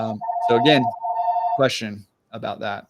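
A telephone rings with a steady electronic tone under a man's speech, rising in two bursts before a short pause and more talk.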